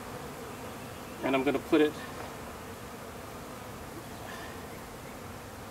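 Honey bees from a package buzz around a hive in a soft, steady drone, with a few brief louder buzzes as bees pass close, while a person speaks quietly nearby.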